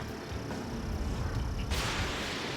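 Missile launching from a fighter jet in a combat flight game, a sustained low roar with a rushing burst of bright noise near the end, no voices.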